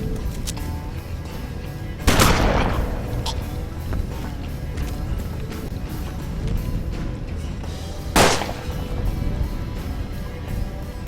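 Two heavy shotgun blasts from the turn-based Western game Hard West, spaced several seconds apart, each a sharp loud crack with a trailing rumble over a steady low background bed.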